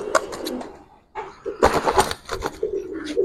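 Giribaz pigeons let out of a loft: soft low cooing, then a sudden loud burst of wing flapping midway, with more flutter and cooing after, close by and without talk.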